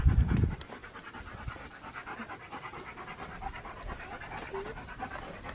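Dog panting close behind the listener while exploring abandoned airplanes outdoors, rapid rhythmic breathy panting that is steady and near, with a brief loud burst at the start.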